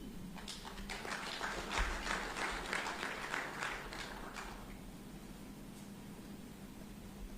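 Faint applause from an audience during a speech at a formal state banquet, building for about four seconds then trailing off into room noise and a steady low hum.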